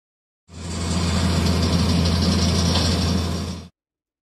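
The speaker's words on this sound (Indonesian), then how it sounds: "Asphalt paver adalah jenis alat berat untuk konstruksi jalan yang berperan sebagai mesin yang menghamparkan campuran aspal panas." Heavy road construction machine, an asphalt paver, runs with a steady loud engine drone and low rumble, continuous mechanical clatter over the whole stretch, close and alone without talk.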